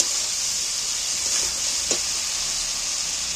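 Fried potatoes being sautéed with spices in a pan, giving a constant loud sizzling hiss that runs throughout, with a faint scrape of stirring partway and no voices.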